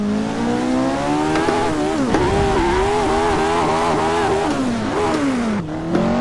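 A racing car's engine in Assetto Corsa, driven with a wheel, revs hard and continuously, rising and falling in pitch through gear changes with a drop near the end, loud and close throughout.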